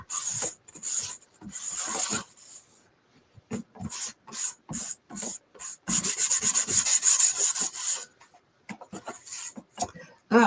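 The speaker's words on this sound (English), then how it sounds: "I'm going to give it a slight sand. Just because it was a little scratchy." Light hand sanding over a round wooden door sign, heard as quick, close rubbing strokes in uneven bursts with short pauses, including one longer steady stretch of scraping.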